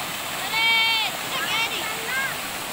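Water pours down a waterfall in a continuous rushing wash, while a child-like voice talks over it in short phrases.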